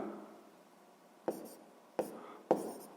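A pen tapping and scratching on paper while writing out a sixth-grade math solution, three sharp close taps with faint scribbling between, quiet and without talk.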